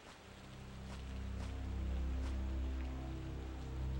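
Steady rain hiss in the Castlevania 64 video game, a continuous wash of falling rain over a low droning game ambience, with faint intermittent drop-like ticks and no voices.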